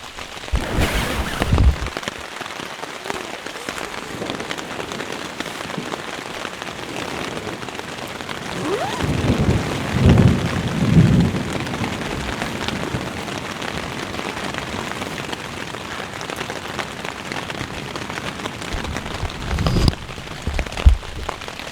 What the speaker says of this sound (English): And it's mostly just heavy rain.